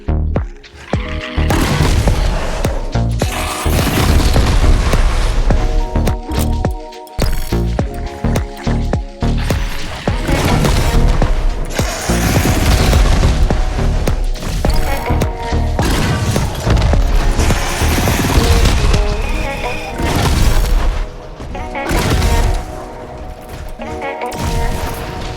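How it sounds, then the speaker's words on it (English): Rocket barrage in Doom, a dense, loud run of booming explosions and mechanical clanks that continues almost without pause, with brief quieter gaps. "Press F to launch a rocket barrage, which fires multiple rockets after a brief wind-up."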